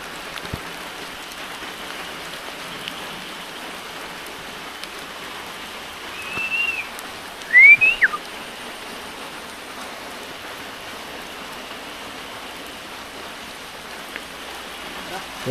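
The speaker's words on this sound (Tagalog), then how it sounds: "Dahil malakas yung ulan" Heavy rain pouring steadily onto a surface, a dense, continuous hiss heard close by throughout, with brief faint voices and a few short sharper sounds in the middle.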